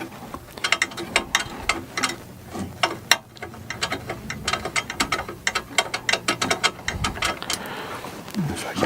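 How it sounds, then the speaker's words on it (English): Ratchet tightening bolts on the aluminum frame of a Geeetech Prusa i3 3D printer, rapid irregular bursts of clicking from the pawl with short pauses between strokes, close and fairly loud. "I'm going to tighten these bolts up completely."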